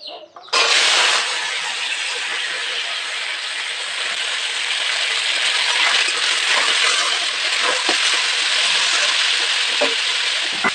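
Small washed native potatoes drop into hot oil in a kadai, setting off a sudden, loud, sustained hiss and sizzle with scattered pops.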